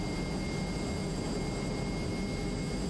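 A Hawker Hunter jet engine at full throttle in Microsoft Flight Simulator roars as a steady, loud, unbroken drone with high tones whining on top. It holds level for the whole stretch and nothing else is heard over it.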